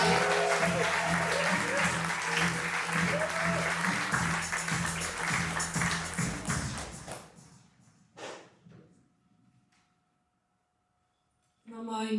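Audience applause and cheering at the grand finale of a live slam poetry show, loud and sustained for about seven seconds before fading out, then near silence with a couple of brief thumps.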